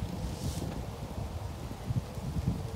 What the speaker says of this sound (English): It's a very windy day and we are outside.